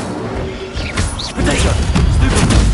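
The Incendio fire spell in the Hogwarts Legacy game on PS5, a loud whooshing burst followed by crashing, crackling impacts, close and dense over under three seconds.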